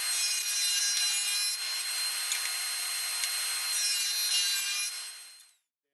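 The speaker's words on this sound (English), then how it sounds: "we'll go to the table saw and we'll just trim off those pieces" Power saw cutting through wood on a table saw, trimming pieces for a decorative window panel mirror: a steady, loud bright whine with continuous rasp that runs for about five seconds, then cuts off and fades out.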